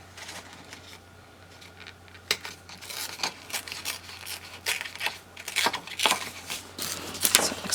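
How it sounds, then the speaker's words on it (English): Paper torn by hand for a scrapbook album page, quiet at first, then a run of sharp ripping and crinkling bursts that grow louder and denser toward the end, with no talking. "But I want to tear this first."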